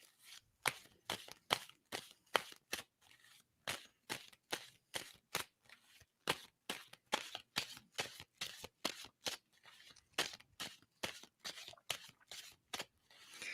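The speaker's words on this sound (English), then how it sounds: "tell me when I should stop shuffling on that" A deck of tarot cards is riffled and shuffled repeatedly at close range, giving a steady run of sharp, crisp card snaps in quick bursts that carry on throughout, with no talking.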